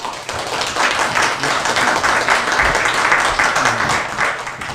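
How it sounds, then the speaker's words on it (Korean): A church audience at a Reformation commemoration claps to welcome a visiting professor, with dense, steady applause sustained at an even level throughout, with no voices above it. "우리 교수님 나오실 때 우리 한번 뜨겁게 박수로 한번 환영하면 좋겠습니다."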